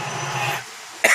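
A single short cough bursts out near the end of the moment, close and loud, following a steady low background hum.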